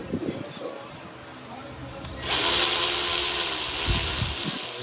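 A power tool runs down the passenger-side cylinder head bolts on a 1000 HP Scat Pack engine, starting abruptly with a loud steady whine that continues to the end after a quieter stretch of shop noise.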